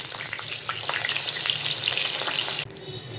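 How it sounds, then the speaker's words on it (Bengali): Potatoes fry in oil left in the pan after frying fish heads for a Bengali curry. They give a dense, close, continuous sizzle with stirring clatter, and the frying abruptly drops to a softer hiss near the end. "আলুগুলো দিয়ে লাল করে ভেজে নেব।"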